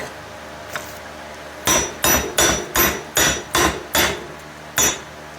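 Sharp metal hammer blows drive wheel studs out of a 1998 Dodge Neon rear hub in a garage: one light tap, then a run of six loud, evenly spaced strikes, a pause and one final hit, close and without talk.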